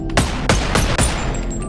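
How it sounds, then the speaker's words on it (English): Gun test shots in the VR game BoneLab, three or four sharp, loud gunshots fired at an even pace over a short span, with ringing tails. "Let's do a couple test shots."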